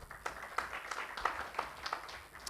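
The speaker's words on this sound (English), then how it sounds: "Please, a round of applause again for Dr. Mutua." Scattered applause from an audience at a Kenyan diaspora gathering, a few sparse hand claps at uneven intervals, fairly faint and distant.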